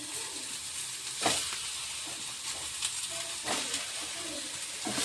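Tomatoes fry in a kadai for egg curry, a steady hissing sizzle close by with a few louder spits and stirring clatters, and no voices.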